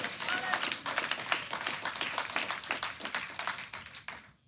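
A church congregation claps in a fast, steady rhythm, many hands together and evenly loud, before the clapping fades out at the end.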